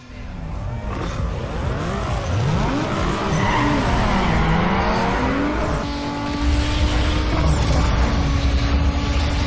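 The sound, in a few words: car racing in video game Need for Speed Underground 2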